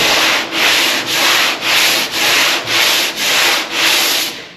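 Eight steady back-and-forth strokes of 80-grit sandpaper rubbing across the surface of an old Power Wagon truck door, loud, close and evenly rhythmic with no voices.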